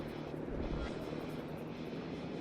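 Aircraft engines of carrier fighter and bomber planes in World of Warships, a steady propeller drone with a low rumble that swells slightly, then holds on as a faint, continuous background roar.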